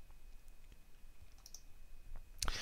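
A name typed on a keyboard into a Facebook search box: sparse soft key clicks, then a quick louder cluster of taps near the end, close by and quiet.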